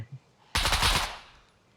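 A sharp burst of automatic gunfire from the video game SCUM erupts after a brief quiet moment, loud and dense, then fades quickly into a short tail.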